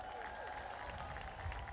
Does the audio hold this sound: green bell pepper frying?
no